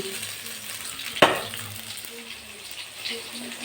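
Black carp pieces fry in hot oil with a soft, continuous sizzle, broken by one sharp clack near the start as a piece is lifted out.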